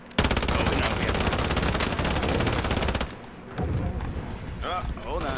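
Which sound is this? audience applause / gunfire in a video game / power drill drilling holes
gunfire in a video game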